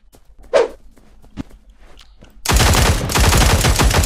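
Rapid automatic gunfire in the futuristic shooter game Cyber Hunter, breaking out suddenly after a few quiet footsteps and continuing as a loud, dense, sustained burst close to the listener.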